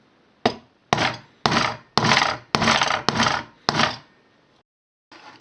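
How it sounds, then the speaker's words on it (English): A hammer striking a screwdriver to tap a rivet into a Britains Farm Toys Land Rover Defender, seven firm, evenly spaced knocks close by, each with a brief ringing decay, followed by a short pause and one softer sound. "Now I'm just going to get a screwdriver and a hammer, just tap it into place."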